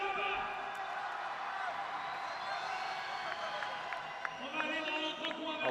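Crowd in the stands at a French BMX race cheering and whooping, a continuous distant roar with scattered whistles and clapping, with a commentator talking over it.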